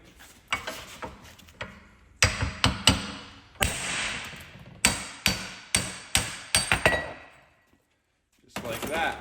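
Mallet striking a 1-1/8 inch deep socket held with vise grips to knock out a wheel hub, a string of about a dozen sharp metallic whacks in uneven bursts, close and loud, with pauses between.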